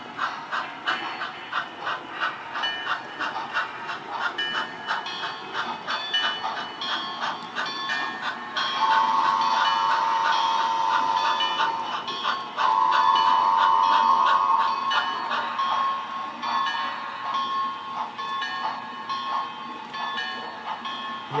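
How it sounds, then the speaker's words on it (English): Ulster and Delaware model train arriving and pulling into a station stop, a steady close rhythmic rolling chug with two sustained whistle blasts in the middle. "Ulster and Delaware train is arriving from Catskills on its way back to Rondell. And it's going to pull in and make a station stop."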